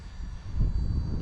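An Esky 150EC mini RC helicopter flies nearby with a steady, loud motor whine and rotor buzz that swells slightly partway through, heard alone without talk.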